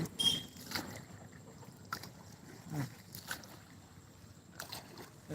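A small boat moving through deep floodwater in a paddy field, with soft irregular water splashes and sloshes close by, brief knocks, and light wind noise in the background.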